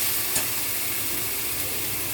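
Potatoes and taro stolons frying and being stirred with spices in a pan, a steady close sizzle and hiss with soft scraping of stirring throughout, no talking.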